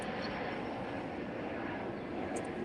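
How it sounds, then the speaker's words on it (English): A fixed-wing airplane flies overhead, a steady broadband engine roar that stays loud and even throughout, with no talking over it. "After the plane go by."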